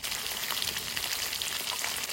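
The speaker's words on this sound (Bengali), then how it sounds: "মাছ ভাজা তেলে আলুগুলো ভেজে নেব।" Potatoes fry in oil left over from frying fish, giving a steady, close, bright sizzle that runs without a break.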